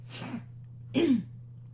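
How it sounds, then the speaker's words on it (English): Two short, close throat-clearing grunts separated by a brief pause, over a steady low hum. "The clearing my throat serves both as actually clearing my throat as well as awkwardness."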